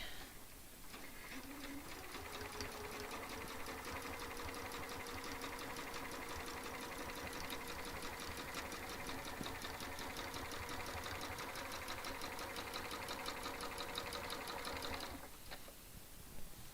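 A quilting sewing machine stitches steadily for about fifteen seconds, a fast even mechanical whir with rapid needle ticks, close and continuous, then stops abruptly.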